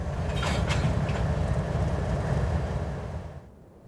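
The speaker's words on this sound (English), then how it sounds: "manifest train X653 rumbles south through this wide-open curve" CSX manifest freight train X653 rumbles steadily through a wide-open curve near Fort Blackmore, Virginia, a continuous low roar with faint wheel noise that fades toward the end.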